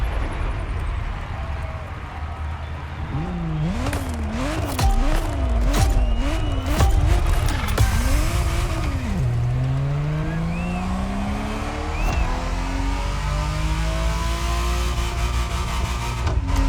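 A Ferrari Testarossa racing in The Crew Motorfest, its engine revving up and down through gear changes with tire squeals and skids, a loud continuous drone with no talk.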